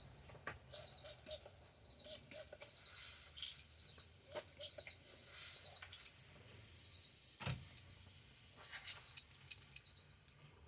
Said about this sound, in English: Okay. Airbrush clean.